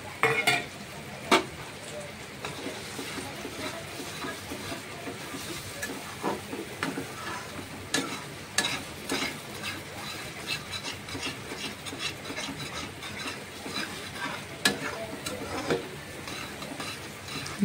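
Beaten eggs meet hot oil in a pan for Bengali egg bhujia, a quiet continuous sizzle broken by repeated scraping and rubbing strokes of a spatula, close by with no talking.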